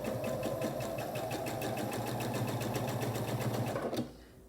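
A sewing machine stitches quilt block pieces in a fast, even run of needle strokes over a motor hum, then stops abruptly near the end.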